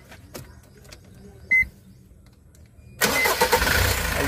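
A Foton Traveller van's engine fires up after a brief quiet with a short chime, then settles into a loud, close running idle that continues to the end.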